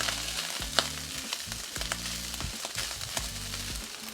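Rice fries in sesame oil on a hot griddle, a steady loud sizzle with sharp pops and crackles and scraping stir strokes at close range, with no talking.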